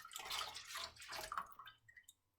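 Milk poured from a jug into a pan for homemade ice cream gives a close, splashy liquid stream that rises and falls for about two seconds before trailing off.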